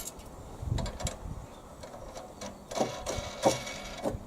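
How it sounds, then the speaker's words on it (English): Nuts being tightened by hand on a Hyundai HYSC210 212cc petrol lawn scarifier during assembly, giving soft intermittent metallic clicks and ratcheting ticks, close and fairly quiet, with no talk. "So I'll just tighten the two black nuts now, one on each side"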